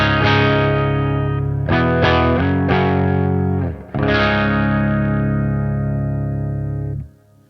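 A 1971 Gibson Les Paul Custom electric guitar plugged straight into the amp with no effects plays loud, sustained chords with a few quick re-strikes and a short gap before ringing out, and no one speaks.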